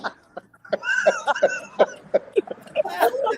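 A rapid run of about ten harsh, close coughs in quick succession, rough and throaty.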